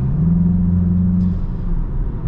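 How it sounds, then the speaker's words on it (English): A 2023 VW Jetta GLI in Sport mode, its engine giving a loud, steady low droning rumble from inside the car, easing slightly toward the end with no talk. "I feel like Sport mode adds some kind of artificial sound and makes it seem much louder than it realistically is."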